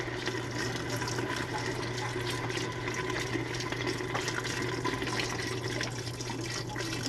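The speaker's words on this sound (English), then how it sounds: "So now I'm going to pour some broth in, the vegetable broth, just to cover the vegetables" Vegetable broth pours steadily into a soup pot of cabbage soup vegetables, a continuous liquid rush and gurgle with no talking.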